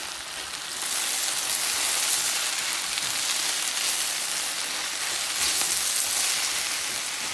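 Green peppers and onions sizzle steadily in a hot pan for a vegan dish, with a dense crackling hiss that swells louder after the first second as the vegetables are stirred in. Nobody speaks.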